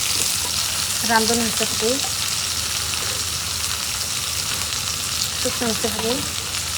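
Salt, turmeric, cumin, coriander and dried chili spices sizzle steadily in a pan for a fish bhuna, a loud continuous fry with brief stirring scrapes and someone speaking briefly over it.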